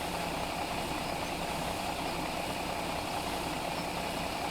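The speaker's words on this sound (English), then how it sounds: "I am off the gas, and it's still doing it. It's still revving up. Oh man, that's a horrible sound." A truck engine in the video game Farming Simulator 17 drones continuously at a steady revving pitch, still revving up with the throttle released, constant and fairly loud throughout with no voices.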